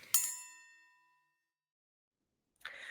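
A single bright bell ding rings out as a notification chime for a channel about oxygen concentrators, its metallic tone decaying over about a second before silence, then a brief burst of broadband noise at the end.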